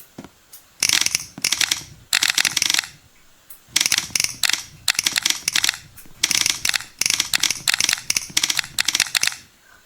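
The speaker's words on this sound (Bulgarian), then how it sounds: "Все едно пишеш на клавиатура на стар компютър." Rapid bursts of clicky clacking from a keyboard with an old-computer feel, tested as a key sound option in a keyboard app, with short pauses between quick runs of keystrokes, close and fairly loud.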